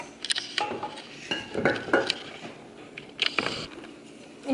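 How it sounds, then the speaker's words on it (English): Cake ingredients being mixed in a bowl, with irregular clinks and scrapes of a utensil against the bowl in short bursts separated by quieter gaps, close by. "With these ingredients, we'll mix them for 2 to 3 minutes"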